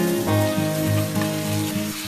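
Beef and vegetables sizzle steadily in a pan as they are stirred together for a beef gravy, a continuous close frying hiss with a faint tonal hum underneath.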